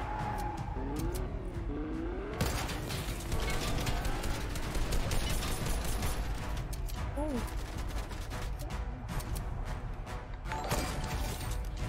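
A car driven in the video game Fortnite, its engine whining and revving steadily under dense, busy game sound, with a louder burst of activity after the first couple of seconds.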